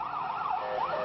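An ambulance siren at the World Trade Center attack scene, wailing up and down steadily throughout. It is loud and clear, with no talk over it.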